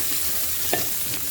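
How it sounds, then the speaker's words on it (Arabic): Onion and garlic sizzling in a pot for lentil soup, a steady close frying hiss with a couple of brief stirring scrapes over it, no voices. "هندي تشويحه حلوه مع بعضها كده البصل والثوم"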